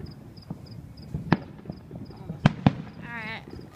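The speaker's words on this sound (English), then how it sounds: "These people buy a lot of illegal fireworks." Several sharp illegal firework bangs and cracks pop at irregular intervals on the Fourth of July, some close and loud, with a faint whistling crackle and quiet background noise.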